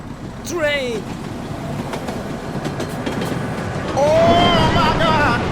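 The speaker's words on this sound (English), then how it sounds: "Train!" A train passes close by, a steady loud rumble with rail noise throughout, swelling near the end, while excited voices shout over it.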